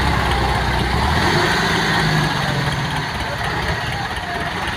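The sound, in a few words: tractor engine running during a vehicle pull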